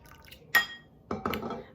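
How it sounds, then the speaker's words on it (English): Lukewarm water poured into a bowl holding yeast and sugar, a brief close splash and clink of the bowl followed by a short burst of pouring, with no talking. "Then I'm gonna add 1 cup of lukewarm water to this."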